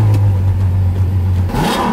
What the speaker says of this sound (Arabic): خلينا نسمعكم صوت السياره الجميل